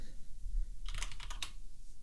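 Fingers typing on a computer keyboard in a quick burst of about half a dozen crisp, close key clicks in the middle of a quiet room, with no talk.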